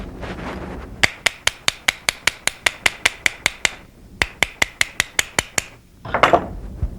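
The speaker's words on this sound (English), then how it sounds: "using a padded hammer" A padded hammer taps a pistol's front sight block, sharp metallic knocks in two steady fast runs of about a dozen each with a short pause between, close and loud, followed by a brief scrape.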